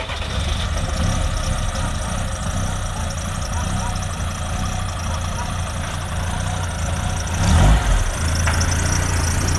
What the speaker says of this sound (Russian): для вас будет много холодных пусков